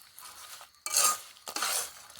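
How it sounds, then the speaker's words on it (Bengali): Fried anarkali sweets are stirred through sugar syrup in a pan, with two or three close, bright scraping sweeps of a utensil against the metal and quiet pauses between them. "রসের মধ্যে নেওয়ার পর এইভাবে কন্টিনিউ একটু ভালো করে নেড়ে চেড়ে নেব।"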